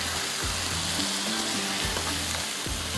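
Pre-fried eggplant tipped into a hot frying pan, giving a loud, dense, continuous sizzle close up, with a few soft clunks and stirring knocks repeating about once a second; no talking.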